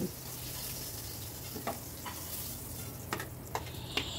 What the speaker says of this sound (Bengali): আমের টুকরোগুলো একসঙ্গে ভেজে নেব